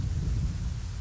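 Rain and thunder in the video game The Pillars of the Earth, a steady heavy downpour with a deep continuous rumble, loud and unbroken.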